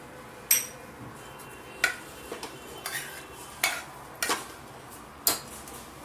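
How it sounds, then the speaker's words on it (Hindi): Vegetable curry of potato, peas and tomato being emptied from a pan into a casserole dish, with sharp intermittent scraping and clinks of a spoon against metal, close and fairly quiet. "अब मैं इसे इस कैसरोल में खाली कर देती हूँ।"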